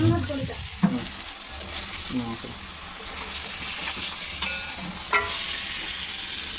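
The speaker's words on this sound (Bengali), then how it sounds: "এবার মাংস দেওয়া হবে মশলার মধ্যে।" Chicken pieces added to a Kashmiri chili spice masala fry and get stirred in a pan for a Bengali chicken dish, a loud, steady sizzle and hiss with scraping stirs and a few clanks.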